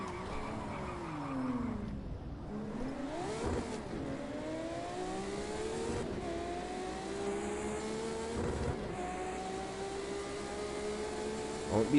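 Ferrari race car in Project Cars 2 on a track, its engine revving hard and climbing in pitch through the gears, dipping on shifts and braking, continuous and close with no talk.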